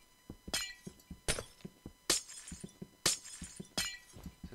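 Glass blocks shattering in Minecraft, a string of about five sharp crashes at irregular intervals, separated by softer thuds of digging and footsteps, fairly close, with no talking.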